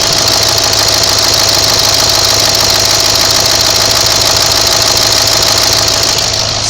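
A Range Rover L322 diesel engine idles steadily, a constant close mechanical drone with a faint knocking texture and a low hum throughout, no voices over it.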